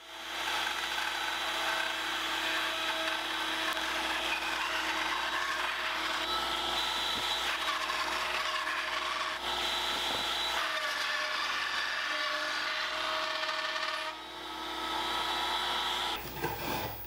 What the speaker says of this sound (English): I'm going to cut the end grain first and then cut the side grain